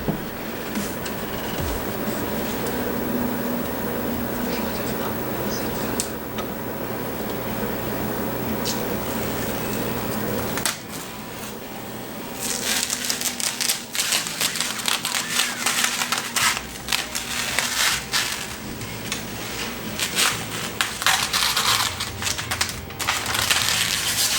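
Protective plastic film is peeled off a glass panel of a computer case, giving a long crackling, crinkling rip that grows sharper and more broken partway through, close and with no speech.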